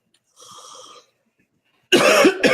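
A close, loud cough comes in two quick bursts during a live online show, following a faint, indistinct stretch of sound and near silence.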